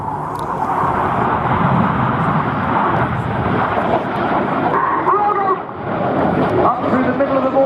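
Red Arrows jet aircraft roaring through a flying display at Scampton, trailing coloured smoke. A loud, continuous jet rush holds steady throughout while a commentator speaks over the top.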